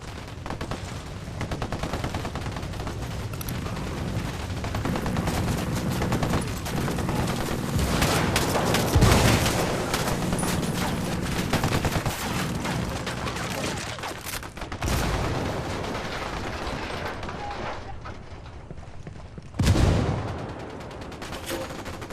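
Dense, sustained gunfire from the video game Ghost Recon Wildlands: overlapping automatic bursts and heavy booms in a rebel firefight at a house, loud and continuous, with a brief lull before a final sharp blast.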